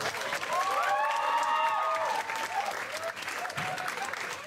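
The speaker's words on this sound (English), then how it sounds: "Give Jose another round of applause, please" An audience applauds a poet at a poetry night in the Blue Room, steady clapping with some cheering voices and whistle-like tones over it, sustained for about four seconds before thinning.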